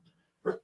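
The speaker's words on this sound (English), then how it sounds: "No, that's not my dog. I'm sorry, that's my dog." A dog lets out a single short bark, faint and somewhat distant, in the background of a call-in conversation, with a brief low murmur just before it.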